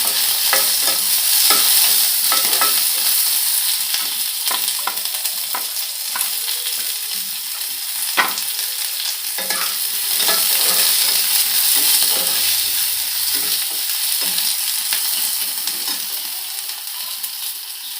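Chopped garlic fries in hot oil in a pan for chicken curry, a steady bright sizzle broken by repeated scraping and clinking stirs of a spoon, close and continuous throughout.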